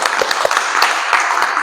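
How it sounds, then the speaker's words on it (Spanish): A church congregation claps, a short burst of close, distinct hand claps at a brisk and slightly uneven rhythm, fairly loud and with no talking over it. "Un aplauso, señor, hermano."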